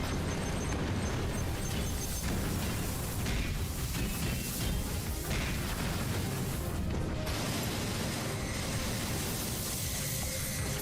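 Explosions from rounds of ammo blowing up in a mecha video game, a dense, continuous roar of blasts and crashing debris that stays loud and steady for the whole stretch.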